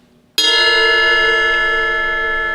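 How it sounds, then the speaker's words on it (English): A drumstick strikes the bell of a cymbal once in a drum lab, a sharp metallic ping that rings on as a bright, sustained, slowly fading tone. "The way that you know you're getting good cymbal sounds when you're recording is, can we have one strike in the bell"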